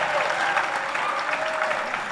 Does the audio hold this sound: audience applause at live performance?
yes